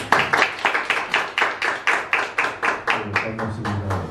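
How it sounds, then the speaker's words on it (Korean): An audience at an art lecture claps to welcome a speaker, with steady rhythmic claps that loosen near the end as a voice begins underneath. "그럼 박수로 맞이해볼까요?"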